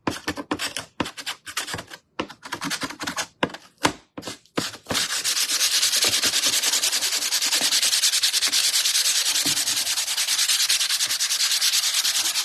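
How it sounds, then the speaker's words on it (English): A small mouse sander grinds steadily and loudly against wood, following a series of short, choppy scraping bursts at the start. "I have a little mouse sander, so I'll just hit the back of it."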